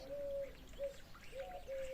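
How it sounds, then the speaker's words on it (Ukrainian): A common starling sings outdoors, drawn-out whistled notes broken by short pauses, faint and somewhat distant, with no talk. "Це звичайний шпак. І він може, я не знаю, вам видно, не видно, він може дуже гарно підробляти е, голоси пташок."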